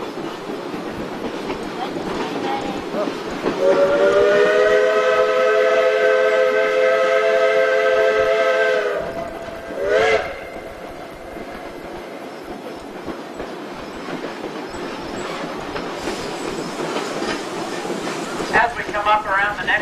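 A steam train climbing a Colorado mountain railway sounds a long, loud, multi-toned whistle over the rumble of rolling cars, followed by a brief second toot and steady track noise.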